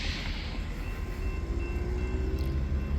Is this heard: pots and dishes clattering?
no